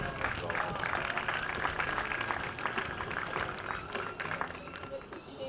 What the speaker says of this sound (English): Let's give a big round of applause for all our seniors.